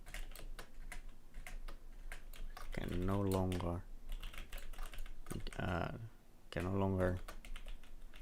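Fast, crisp keystrokes clatter on a computer keyboard throughout, close and continuous, while someone speaks in short bursts over the typing.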